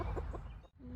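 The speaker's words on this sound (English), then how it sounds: "spending it with chickens" Chickens clucking on a farm on an evening, a few soft, short clucks up close over a steady low background, with a brief dip toward the end.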